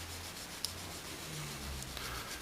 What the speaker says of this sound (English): get your file, the worn down side